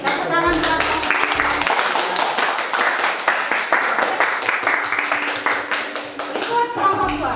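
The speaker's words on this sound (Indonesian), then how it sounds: "Tepuk tangan buat" Classroom audience clapping for a student group's presentation, a dense sustained round of applause filling the whole stretch, fairly loud and close, with children's voices mixed in.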